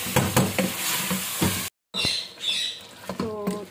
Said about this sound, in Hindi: अब चिकन की अच्छी तरह भुनाई कर लेते हैं और भी।